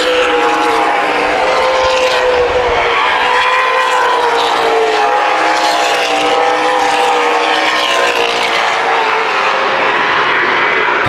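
Stock cars race the final lap of a 20-lap main event at Columbus Motor Speedway, a loud, continuous roar of engines with layered, slowly shifting pitches, packed and close throughout.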